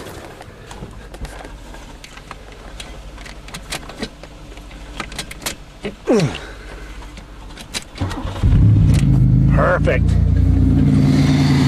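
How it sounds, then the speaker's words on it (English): A junked Buick Regal or Oldsmobile engine cranks, fires and revs loudly near the end, after a stretch of clicks, clatter and handling noises. Someone speaks briefly during the clip. "we are going to start this engine and crush it while it's revving high"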